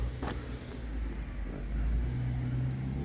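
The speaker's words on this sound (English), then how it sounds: "This guy's speeding on the street" A car speeds past on a street, its engine a steady low rumble that swells and fades as it goes by, heard from the roadside with no talk over it.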